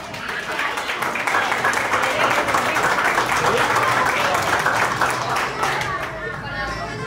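Steady applause from a graduation crowd for a student at a cap-crossing ceremony, continuous clapping with murmuring voices mixed in throughout.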